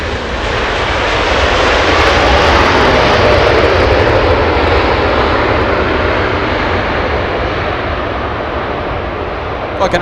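An airliner with GE90 jet engines roars at Los Angeles International Airport, a loud, broad, steady engine rumble that swells and holds for the full ten seconds without a break.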